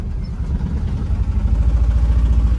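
A loaded truck's engine pulls out with a steady low rumble, close and continuous, its pulsing throb rising slightly toward the end.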